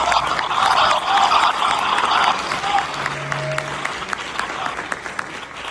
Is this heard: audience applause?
yes